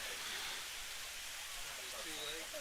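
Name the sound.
heavy rain falling on baseball field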